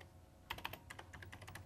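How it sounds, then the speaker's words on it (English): Typing on a computer keyboard while entering a script name in FileMaker Pro, a quick burst of crisp close keystrokes in an irregular rhythm, fairly quiet, with no voices. "I'll define the script by just typing in a name"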